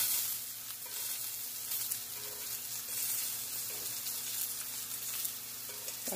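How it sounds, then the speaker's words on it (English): Mushrooms sizzle steadily in a pan on high heat, a dense crackling hiss with faint clinks and stirring, no talking. "you want to have it on a high heat so that you can cook out, you want to get the sizzle"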